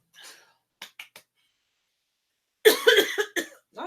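One person coughs a few times indoors: a faint cough first, then a short cluster of small coughs, and after a pause a louder, harsher burst of coughing close to the microphone.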